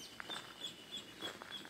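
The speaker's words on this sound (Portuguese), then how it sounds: "E a barulheira dos passarinhos" Small birds chirp in scattered, faint bursts on a cloudy, cool day at a rural pasture with a white-painted wooden plank fence, a thin repeated high call recurring over soft background noise.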